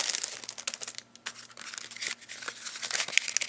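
Cellophane wrapping is peeled open by hand with close, crisp crinkling and tearing in irregular bursts and brief pauses.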